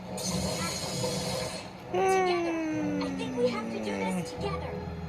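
A long, drawn-out meow slides slowly downward in pitch, with a steady low hum and some shuffling noise around it.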